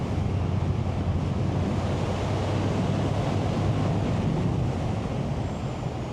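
Heavy, steady wind rush buffets a rider on a Yamaha XSR700 motorcycle with no windscreen. A low engine drone sits underneath, and the roar stays loud and constant throughout with no talking.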